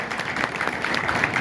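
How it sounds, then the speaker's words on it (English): Brief burst of audience clapping for a couple of models at a rockabilly vintage fashion show, an even patter of hands held at moderate loudness for about a second and a half. "Let's give them a round of applause."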